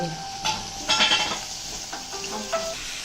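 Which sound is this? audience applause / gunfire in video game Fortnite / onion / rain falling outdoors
onion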